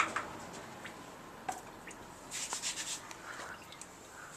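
Coolant gurgles and bubbles softly up close in the open radiator neck of a Suzuki Hayabusa, with faint wet pops and drips and a short cluster of bubbling in the middle.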